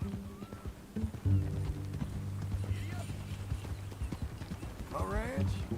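Horse hooves clip-clop at a steady walking rhythm in the video game Red Dead Redemption 2, close and continuous under people talking, with a brief whinny near the end.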